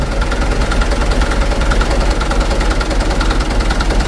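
A Mitsubishi Canter truck engine idles loud and close while being adjusted, with a rough, shaking, knocking rumble that pulses steadily throughout.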